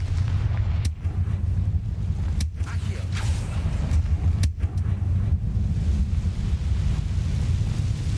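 Confringo blasting spells go off in Hogwarts Legacy as sharp, loud bursts at roughly 1, 2.5 and 4.5 seconds, set against a constant low rumble and creaking background.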